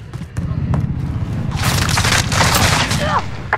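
Gunfire and explosions from a Modern Warfare domination match on the Piccadilly map on Xbox One: loud bursts of rifle fire and booming blasts, with in-game radio voices talking over the chaos.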